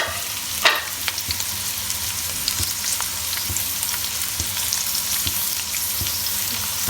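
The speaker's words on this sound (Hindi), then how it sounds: "हमारा ऑयल गर्म हो चुका है, हम प्याज इसमें शामिल कर लेते हैं।" Onions with added salt frying in hot oil, a dense, even sizzle held close throughout, broken by a few soft knocks from stirring and one sharper clack near the start, with no talking.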